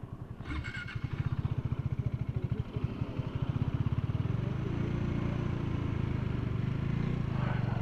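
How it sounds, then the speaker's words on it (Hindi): Motorcycles arrive and idle at a park in Mirzapur, one engine's pulsing putter close and rhythmic, then settling into a steady rumble with brief clatter at the start. "ये भाई लोग पार्क करते हैं बाइक को"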